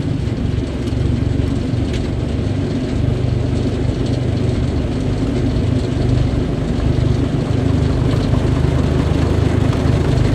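The diesel engine of a 1955 Ferguson 35 tractor idles steadily with the PTO engaged and turning and the drive gears in neutral, a continuous close low rumble with no talking.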